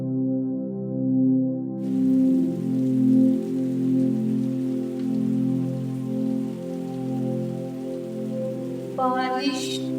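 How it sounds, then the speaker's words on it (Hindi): Light rain falls steadily, a soft continuous patter of drops on a surface, layered over a calm sustained musical drone, with a brighter patch of drops near the end. "बारिश"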